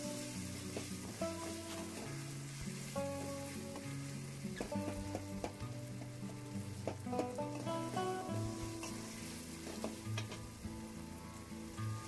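Curry leaves crackle and sizzle steadily in hot frying oil while cooking brinjal katta, with a constant close hiss, scattered pops and faint stirring, and soft tonal background music underneath.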